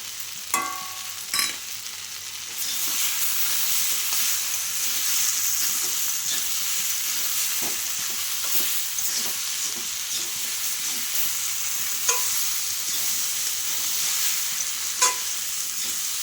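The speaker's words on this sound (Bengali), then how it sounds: "লবণটা দিয়ে আর হলুদটা দিয়ে আমি ভালো করে একটু কষিয়ে নিচ্ছি" Salt and turmeric are stirred into a frying pan of prawns with Malabar spinach for a Bengali curry. A couple of sharp utensil knocks come first, then a loud, continuous sizzle runs close up with occasional scraping taps and no speech.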